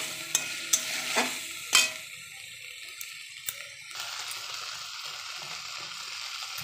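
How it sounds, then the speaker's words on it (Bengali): Chopped tomato going into a frying paste of ginger, garlic, whole cumin and dried chilli, with spoon taps and stirring scrapes in the first two seconds, then a soft steady sizzle on its own. "এবার আমি একটা টমেটো কেটে দিয়ে দিলাম মশলার মধ্যে।"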